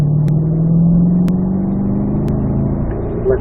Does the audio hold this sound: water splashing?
no